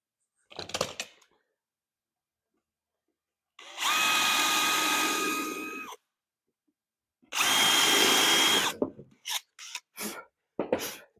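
A power drill drives screws into a wooden board on a simple beginner woodworking project, two sustained whirring runs of about two seconds each, then a few short bursts as the screws seat, close and loud.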